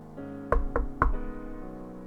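Three firm, evenly spaced knocks on a door ring out close and clear over a soft, sustained tonal drone in the background.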